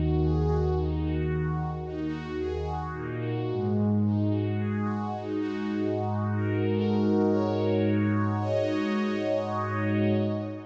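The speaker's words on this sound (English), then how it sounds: "very, very nice to have the Korg Poly-61 in a plugin form like this" Korg Poly-61 synth plugin with reverb plays a sustained chord progression, steady bass tones under shimmering swept upper harmonics, close and continuous with a lush reverberant tail and no voices.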